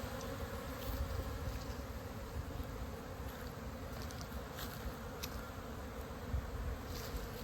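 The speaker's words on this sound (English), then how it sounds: "there's a lot of foraging activity going on right here with this hive" A steady, dense buzzing of many honeybees foraging around a hive fills the air without a break, with individual bees droning close by now and then against the constant hum.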